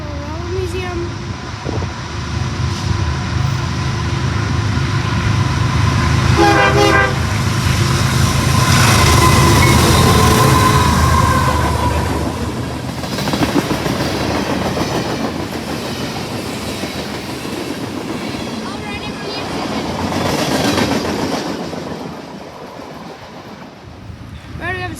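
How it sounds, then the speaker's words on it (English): A CSX freight train rolls into the Lakeshore Railroad Museum with a steady loud rumble and clattering wheels, rising and easing over about twenty-five seconds, with rhythmic clicks over the rail joints and a faint horn-like tone partway through. "CSX coming into Lakeshore Railroad Museum."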